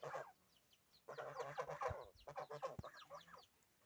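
Two young geese in a village poultry yard give short, repeated honking calls, fairly close and clear, with bursts of clustered cries and no talk.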